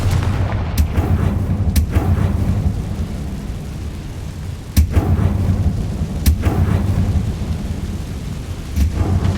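Confringo fire spell in Hogwarts Legacy bursting into loud, booming explosions, several heavy blasts spaced across the stretch over a constant low rumble.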